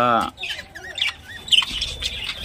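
Budgerigars in a breeding setup give a few harsh squawks and chirps in a busy cluster, close and moderately loud, with a brief voice at the start.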